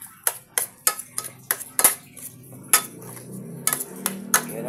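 A utensil clinks rhythmically against a bowl while banana blossom omelette batter is stirred, about a dozen sharp, close taps in quick succession with soft mixing sounds between them.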